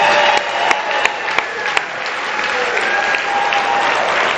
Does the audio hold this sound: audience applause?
yes